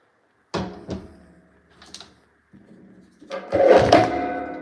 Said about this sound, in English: Knocking things over, sorry.